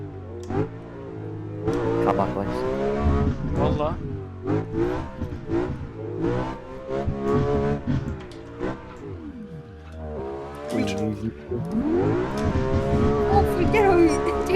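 A BMW E92 M3 in the Assetto Corsa racing game revs loudly inside a tunnel, its engine note rising and falling through repeated throttle blips with echoing reverberation, while people talk over it.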